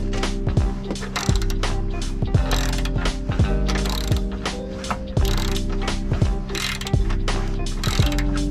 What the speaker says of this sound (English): All we gotta do now is just tighten everything and we're good to go.